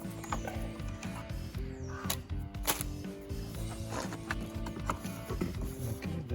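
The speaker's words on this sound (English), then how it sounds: "I'm going to remove the airflow meter using a 25 Torx" Torx 25 screwdriver loosening the airflow meter screws on a high-mileage Volvo S80 under the bonnet, with repeated close ratcheting clicks and metallic rattles in a busy, continuous stretch and no talking.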